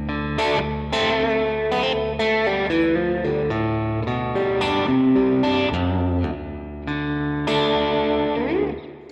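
An electric guitar plays a series of picked notes and chords through a Line 6 Helix amp model, each ringing out with a reverb tail.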